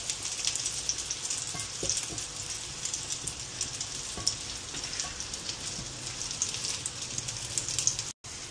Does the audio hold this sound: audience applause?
no